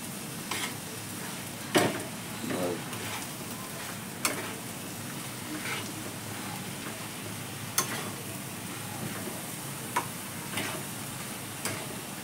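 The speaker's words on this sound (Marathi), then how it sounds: "चांगलं हलवून घ्यायचं मसाला सगळीकडे." Freshly grated coconut and masala are stirred into a hot tempering for val (field bean) bhaji, a soft continuous sizzle broken by occasional sharp spoon clinks and scrapes against the pan.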